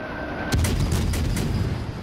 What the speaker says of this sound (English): We're going to stop here and start taking shots at the Helena